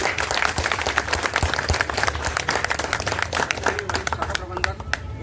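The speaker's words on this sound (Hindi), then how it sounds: "और तालियों से इनका स्वागत।" Lively audience applause welcoming a speaker at an Independence Day gathering in an LIC insurance office, a close, dense run of claps with sharp individual hits throughout, and a voice emerging as it winds down.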